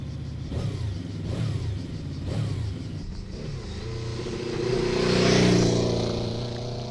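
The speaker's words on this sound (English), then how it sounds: "now I'll let you hear how the V4 runs, which is a one-of-a-kind engine." A QJ Motor SRV 600 V4 cruiser engine idles with a steady, throbbing rumble, blipped several times in quick succession, then swells into a louder, longer rev that fades back down. No voices.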